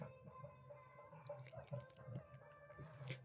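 Chickens roaming outdoors on wet ground after rain cluck faintly and intermittently in the distance, set in a quiet, soft ambience.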